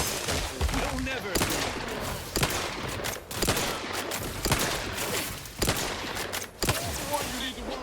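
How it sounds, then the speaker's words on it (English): Rapid bursts of gunfire crackle through a boss fight against Seer Wiley in The Outer Worlds 2, loud and dense with repeated volleys and short pauses, with speech faintly mixed underneath. "Riddle me with bullets all you like"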